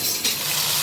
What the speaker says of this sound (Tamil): தண்ணி விடுது பாருங்க, அப்படியே எண்ணெயில் வேகுது, அப்படியே பரட்டி விடுவோம்.